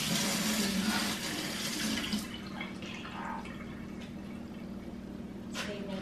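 Water runs from a tap nearby in a continuous rush, easing slightly after a couple of seconds, with faint background hum and no speech.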